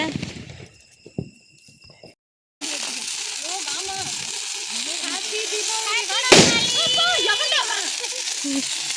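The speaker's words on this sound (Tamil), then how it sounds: "அதான் பேப்பர் வெடி" Paper firecrackers crackle and pop at Diwali in a dense, continuous string, with one sharp louder burst midway; a short quiet pause comes before the crackling starts.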